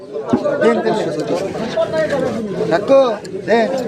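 Busy crowd chatter at a pigeon market in the rain, many voices talking at once, with pigeons cooing here and there among them.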